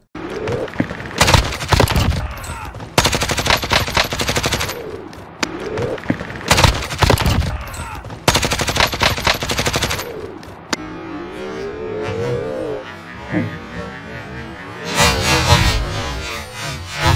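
Automatic gunfire from the video game Warzone, loud rapid bursts repeating in quick succession, then a quieter stretch of scattered shots and explosions before another burst.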